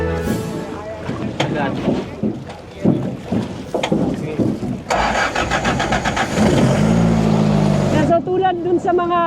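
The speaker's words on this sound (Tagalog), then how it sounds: "Tapos pinapatakbo siya sa pamamagitan ng Makina pa rin sa jeep, tapos nilagyan na lang ng ilisi." A jeep engine powers a boat built from a converted jeep and fitted with a propeller at sea. The motor starts and settles into a steady droning hum after scattered knocks and clatter, with voices talking.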